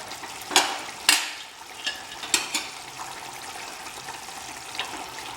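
A whole mutton raan, an Awadhi dish, gets turned over as it cooks, several sharp clanks and scrapes of a utensil against the pot over a soft, continuous sizzle.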